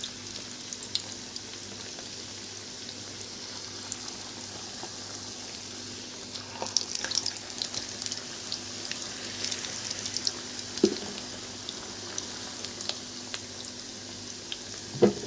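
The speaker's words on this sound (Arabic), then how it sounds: "هنحط طاسة على النار فيها زيت، وبعدين نبتدي ننزل بالكفتة بتاعتنا بالشكل ده" Chicken kofta fries in oil in a pan with a steady, soft sizzling hiss, dotted with faint crackles and a few clicks that grow busier toward the middle, and no voices over it.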